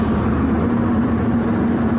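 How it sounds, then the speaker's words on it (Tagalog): A dump truck engine drones steadily and heavily, a constant low rumble with no speech over it. "ang dump truck ngayon ay parating na."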